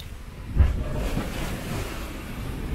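Wind and waves while sailing on the Adriatic off Italy: a steady rushing roar of wind buffeting the microphone over the wash of water against the hull, continuous and fairly loud with no talk.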